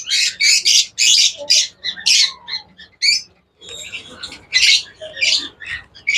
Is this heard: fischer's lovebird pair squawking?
yes